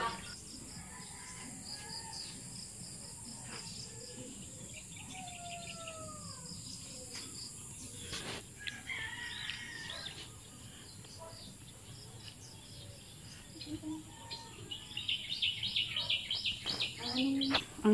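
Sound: birds chirping and singing outdoors in the province

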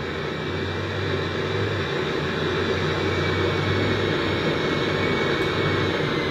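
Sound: airplane landing in an iOS flight video game

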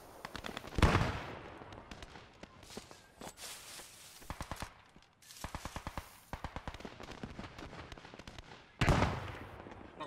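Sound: machine gun fire in the video game Post Scriptum

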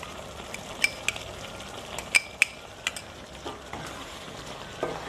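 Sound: stirring cashew and melon seed paste into chicken curry

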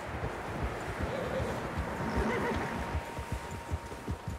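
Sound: horses neighing in video game Red Dead Redemption 2

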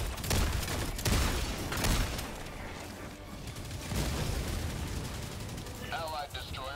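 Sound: cannon tower firing in a video game

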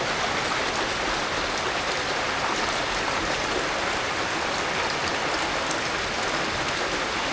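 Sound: rainwater draining from rooftop garden drain line

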